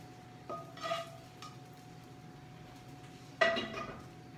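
A dish of corn in a skillet of mac and cheese is set back on a metal tray, giving a soft clink near the start and a sharper metallic clink about three seconds later in a quiet kitchen.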